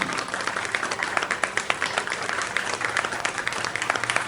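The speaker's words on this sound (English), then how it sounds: "Ladies and gentlemen, can we have a big round of applause for Dr. Rajendra Prasad ji" A crowd at an awards ceremony applauds an honorary doctorate recipient in education. The clapping is loud, sustained and densely packed, with sharp individual claps standing out across the whole stretch.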